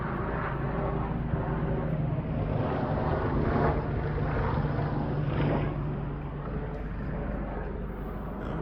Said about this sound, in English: Let's wait for the helicopter to pass.